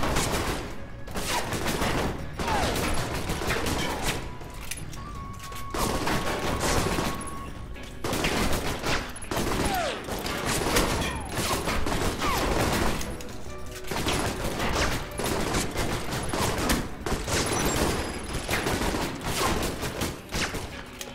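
Enemies fire guns in the video game Alpha Protocol, with dense, continuous automatic gunfire and scattered shots. The firing rolls on steadily for about twenty seconds with no pause, loud and close.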